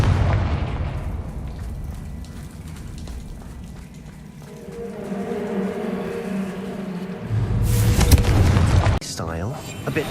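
In the video game Hogwarts Legacy, a Confringo fire spell explodes with a deep, rumbling boom that rises to a loud burst near the end, under spoken game dialogue and background game sound.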